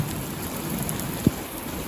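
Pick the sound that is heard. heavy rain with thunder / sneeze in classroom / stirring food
heavy rain with thunder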